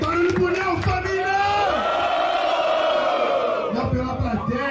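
A live rap battle audience roars and cheers for the rapper Neo, a loud, continuous wall of whoops and yells close by that rises and holds for several seconds, with an announcer's voice shouting over it.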